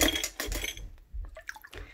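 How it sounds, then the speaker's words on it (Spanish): Water with three tablespoons of a cleaning agent is stirred vigorously in a bowl for washing fruit and vegetables, giving choppy splashing swishes with light clinks of dishes, close and alone. "Y entonces agitan bastante el agua."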